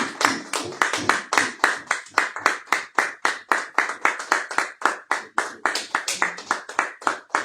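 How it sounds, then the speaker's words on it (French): A church congregation at a weekly service claps in rhythm for the pastor, dense steady hand claps repeating about four times a second, loud and close for several seconds, with no talking over it. "je vous invite à acclamer pour le serviteur de Dieu, le pasteur Marcelin Kangila"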